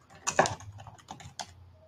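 Brief typing on a computer keyboard, a handful of close, light key clicks with a slightly louder cluster near the start and a quieter stroke later, no voices.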